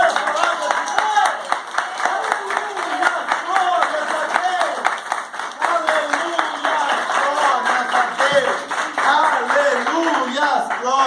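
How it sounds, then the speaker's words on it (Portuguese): A church congregation claps together in praise, rhythmic group clapping ringing under a preacher's loud voice and shouts throughout. "Pode dar uma salva de palmas para a palavra de Deus!"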